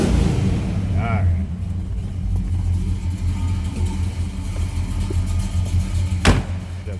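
The 400 engine of a 1968 Oldsmobile 442 2-door hardtop idles with a steady low rumble and one sharp knock near the end.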